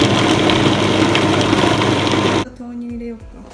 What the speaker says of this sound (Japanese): フードプロセッサーによいしょ。 オッケー。 じゃあスタート。 プラスパルス。